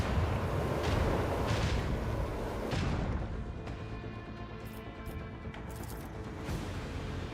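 Starship macro cannons firing a salvo in a space strategy video game: heavy booming blasts rolling together into a loud, rumbling barrage that fades into a lingering low roar.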